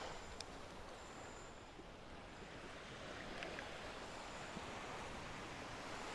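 Surf rolls onto a Florida beach on a warm spring day, a constant broad wash of waves and wind hissing steadily at moderate level, with no voices.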